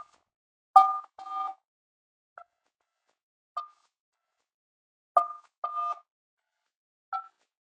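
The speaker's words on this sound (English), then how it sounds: "Please enter an 11-digit phone number which you would like us to call you back on." Sparse, crisp phone keypad beeps entering an 11-digit number for a callback, spaced irregularly with single and paired presses separated by silence.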